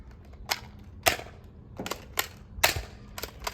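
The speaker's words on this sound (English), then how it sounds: "Those things fired so close together, I thought only 1 ball came out." A Nerf Rival shotgun fires foam balls in a quick, uneven string of about seven sharp, snappy pops, close by, with no voices.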